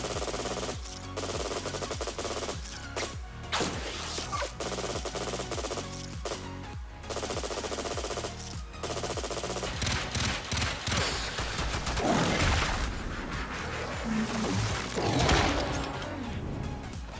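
A weapon in the Warframe video game fires gas-damage rounds at a heavy gunner enemy, with sustained, rapid, loud automatic fire that continues almost unbroken, along with clattering impacts.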